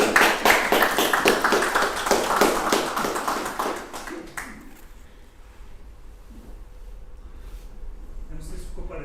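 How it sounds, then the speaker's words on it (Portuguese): Several people clap in quick, distinct strokes for about four seconds, close and fairly loud, then the clapping stops and only quiet room sound remains. "Merece uma salva de palmas."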